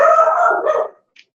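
A dog gives a single long, loud howling bark that trails off, followed by silence and one faint short yip.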